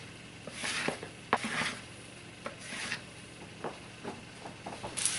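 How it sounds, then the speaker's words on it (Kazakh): A whisk or spoon quickly stirs sponge cake batter after a spoonful of water is added, producing faint, brisk rubbing and scraping strokes in an irregular rhythm against the bowl. "Тезірек араластырамыз, тез-тез."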